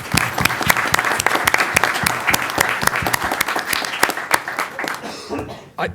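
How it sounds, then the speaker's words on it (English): An audience at a youth mock board meeting gives a round of applause, dense clapping that carries on for several seconds before fading out at the end. "So give a round of applause for them."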